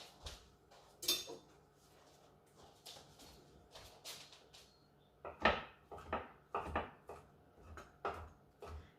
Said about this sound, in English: I'm going to chop this tofu finely because I don't really want big chunks of tofu in my potato cakes